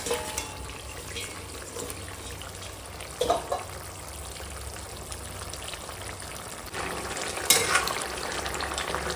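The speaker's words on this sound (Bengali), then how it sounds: "আর এখন দিয়ে দেবো এই যে ধুয়ে পরিষ্কার করে রাখা কচি পালং আর দিয়ে দেবো এই যে পুঁটি মাছ" Tender spinach and puti fish go into a simmering curry with squash and drumsticks, making a soft ongoing sizzle and bubbling with a couple of clattering stirs and drips, no voices over it.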